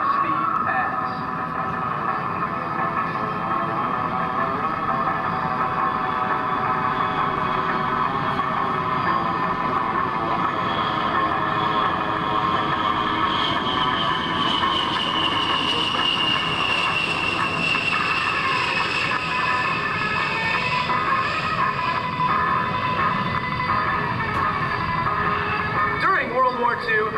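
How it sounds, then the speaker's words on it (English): An A-10 Thunderbolt II jet makes a slow speed pass at an air show, its steady, loud engine roar and whine sustained throughout with a rising high tone midway, while an announcer talks over it. "And now, from the right, Captain Kachuko's in the slow speed pass."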